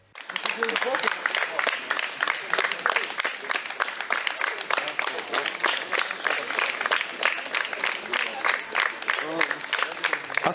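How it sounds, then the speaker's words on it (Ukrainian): Enthusiastic audience applause greeting Ukrainian soldiers at an arts performance, a loud, sustained crackle of many hands clapping with rhythmic bursts, with voices faintly mixed in. "Зустріли військовослужбовців бурхливими оплесками"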